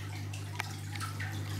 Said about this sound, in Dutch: Eerst even wat water eruit halen.